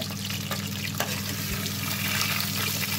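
Prawns fry in hot oil, giving a constant broad bubbling hiss up close with a low steady hum underneath and a few faint clicks.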